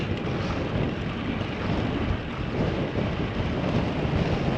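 Headwind buffets the microphone of a cyclist riding on a rural road, a loud, continuous rushing roar with no speech.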